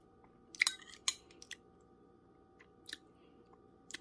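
Expired canned peas more than four years past their date, warm, chewed in a few soft crunchy bites spaced across the clip, quiet and close, with no talking.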